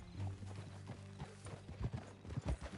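Horse hooves clip-clop in Red Dead Redemption, a quiet, uneven run of soft thuds as a horse walks, with faint ambient game sounds beneath.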